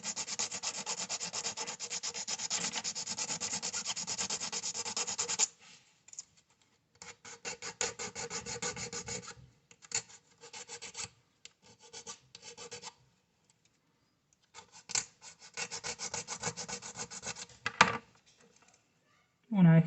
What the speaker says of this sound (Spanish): Todas estas rebarbas de plástico se las vamos a estar sacando con la lima,